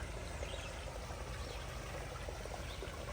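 A garden waterfall in a conifer garden pours and splashes steadily, a continuous close wash of flowing water with no voices.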